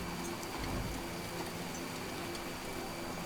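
Rain falling in the video game Death Stranding, a steady hiss of rainfall with scattered droplet ticks, even and moderately loud, no speech.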